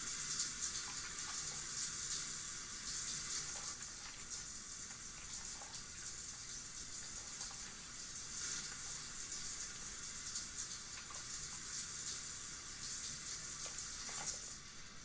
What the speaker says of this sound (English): Having a shower.